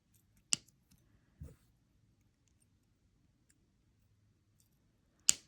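Jewelry wire for a handmade gemstone necklace is cut with sharp, isolated snips: one crisp click near the start, a softer thud, then another crisp snip near the end, amid near silence.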